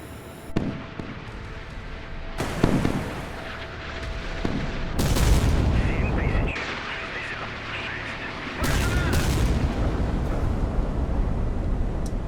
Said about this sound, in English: Missiles were released from those.